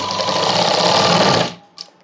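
A sewing machine stitches a padded blouse in one loud, steady close-up whir that stops abruptly, followed by a faint click of handling.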